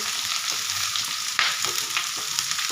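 Onions sizzle steadily in hot oil for a bitter gourd tempering, a dense crackling hiss with a sharp burst of spatter partway through and light stirring scrapes, close and continuous with no talking.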